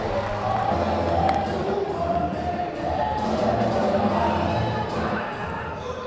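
Baseball crowd at an NCAA game between Florida and Ole Miss gives a standing ovation, a steady broad roar of cheering and applause held for several seconds with a commentator's voice over it.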